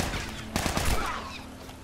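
Burst of gunfire in The Last of Us, a quick cluster of sharp shots at moderate loudness, with faint game ambience around it.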